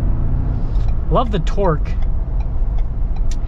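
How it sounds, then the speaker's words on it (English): Tires drone with a steady low rumble inside a lifted 2022 Ford Bronco Wildtrak on the road, a continuous close hum under engine noise, with someone talking briefly over it. "Now you do get a little bit of tire noise with these tires."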